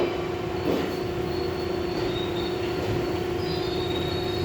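R62 subway train arriving at Flatbush Avenue–Brooklyn College station, with a steady loud rumble and a sustained high wheel squeal as it rolls in, with no talking.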